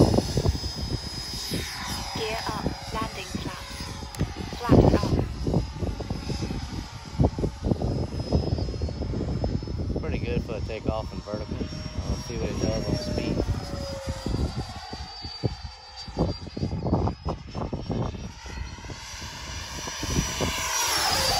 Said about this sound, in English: here we go, we're gonna take off and probably go straight vertical